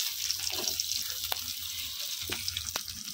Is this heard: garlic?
yes